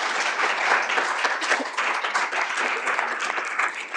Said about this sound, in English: And I think we should give them all one big round of applause.